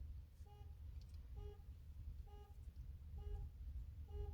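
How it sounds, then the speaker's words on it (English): A car alarm beeps in a steady, evenly spaced pattern of about five two-tone pulses, fairly distant and faint over a low outdoor rumble near a courthouse, with no voices. "I wish this car alarm would stop going off"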